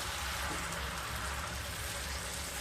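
Hing begun gravy with a little added water bubbling at a boil in a pan, a soft, steady, faint sizzle and bubbling hiss with no pause.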